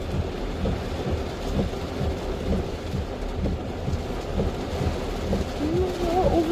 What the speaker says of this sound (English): All of a sudden, it's raining so hard.